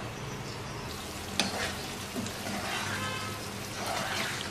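Reshmi paneer handi sizzling and frying in a pan on the burner, a steady crackling hiss with occasional stirring clinks, close and continuous throughout.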